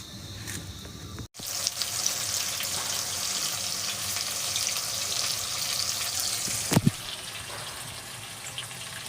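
Oil heating in a pan before meat goes in for frying, a steady hissing sizzle with one sharp crackle near the end and no voices.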